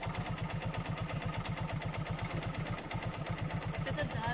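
A motorcycle engine idles steadily nearby, its low rhythmic chugging continuous throughout with no pauses.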